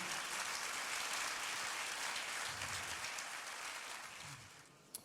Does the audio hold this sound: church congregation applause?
yes